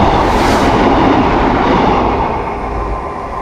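A train rushes past at a railway crossing, a loud, steady roar of rolling wagons that stays close throughout, with no talk over it.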